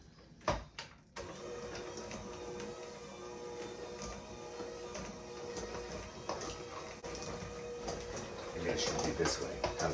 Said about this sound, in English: we're gonna mix it with a hand mixer.